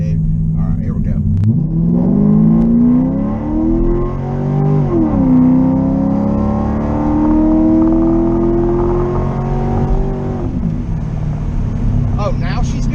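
A car nicknamed Chinavette, fitted with a new RPM transmission and TCI torque converter, revving hard as its tires spin, a loud rising engine drone held for several seconds before dropping off.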